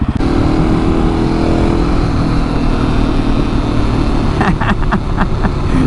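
A KTM 701 motorcycle engine roaring loud and close throughout a wheelie attempt, a steady heavy drone with some rising revs near the end, no talk.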